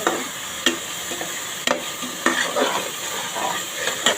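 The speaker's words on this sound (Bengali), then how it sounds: "মাছের জন্য আমি পেঁয়াজ, রসুন, আদা পেস্ট সব দিয়ে কষিয়ে নিচ্ছি।" Onion, garlic and ginger paste fries in a pan for a fish curry, giving a steady close sizzle broken by several sharp scrapes and clicks of a spoon stirring against the pan.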